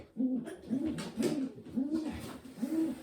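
White pigeons coo in a breeding loft, five rounded, throaty calls rising and falling in a steady rhythm, close and clear with no talking.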